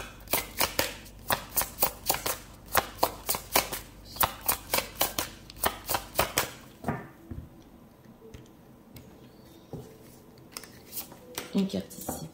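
A tarot deck is shuffled in quick, rhythmic riffled bursts for several seconds, then goes quiet before a few lighter card snaps and slides as cards are drawn and laid down, with a voice speaking softly beneath.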